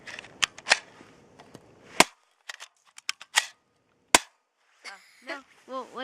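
Airsoft Colt MK pistol fired over a chronograph: a run of sharp, close snapping shots, irregularly spaced, with a few fainter clicks and brief mechanical rattles between them.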